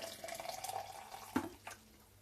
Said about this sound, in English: Let's pour this water in here now.